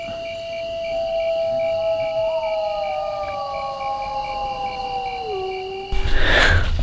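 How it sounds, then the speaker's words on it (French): Wolves howling close by at night in the Arabian desert, long wavering tones rising and sliding together in a sustained chorus for several seconds before breaking off into a brief noisy burst. "on a très très clairement entendu et très très pas loin des loups"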